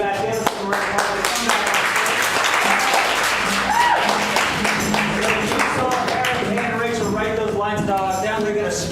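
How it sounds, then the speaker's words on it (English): An audience applauds improvisers at a streamed show, dense clapping throughout with a host's voice and music running over it. "Let's give them a round of applause."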